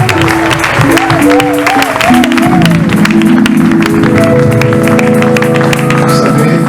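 A church audience applauds and cheers a preacher, a loud steady wash of clapping mixed with sustained music tones and scattered shouts.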